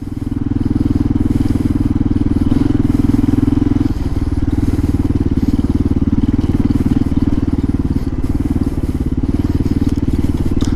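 A 2005 Kawasaki KLR 650 single-cylinder engine idles steadily and loudly up close, a continuous low throbbing chug with a slight dip partway through, no voices over it.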